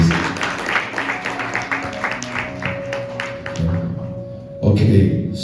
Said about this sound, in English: Can you guys give a round of applause for them, please?